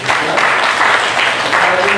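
Applause rises from a church congregation during an Ilocano sermon, a steady, fairly loud wash of many hands clapping with a few voices mixed in.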